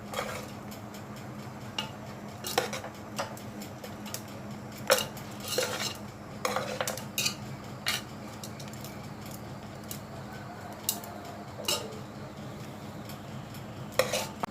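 A metal spoon stirs and scrapes rice mixed with tempering in a pan for pulihora, with irregular clinks and scrapes against the pan over a quiet, steady background hum.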